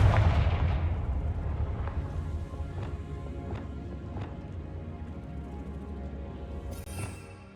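A Confringo blasting spell explosion in the Hogwarts Legacy video game: a heavy booming blast up front followed by a rumbling tail and several lighter thumping impacts.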